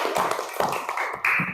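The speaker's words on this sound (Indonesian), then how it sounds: "Beri tepuk tangan." Students in an Indonesian classroom clap their hands together in a few sharp, closely spaced bursts, fairly loud and close, with no talking over them.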